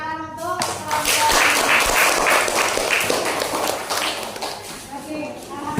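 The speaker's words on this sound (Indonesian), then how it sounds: "Tepuk tangan untuk kelompok." A classroom claps for a student group, a dense burst of applause lasting several seconds with a voice speaking at the start and end.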